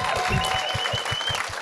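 Live audience applause at an interview event for a film's young lead, a dense steady clatter of many hands clapping close and loud, with a few brief whoops and tones rising over it.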